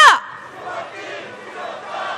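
A protest crowd at a candlelight march roars and cheers in a broad, sustained swell that begins right after a sharp burst at the start, with voices blending into a continuous wash.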